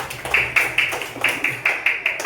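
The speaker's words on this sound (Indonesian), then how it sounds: "kasih tepuk tangan buat Okan" Children clap in rhythm in a classroom, about nine sharp, evenly spaced claps, close and clear.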